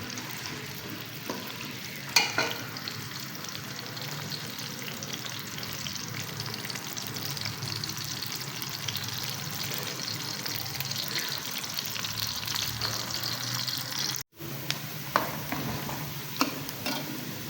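Onions fry in a pan toward light golden, a steady close sizzle crackling on with occasional stirring clinks and a brief dropout near the end, no talk.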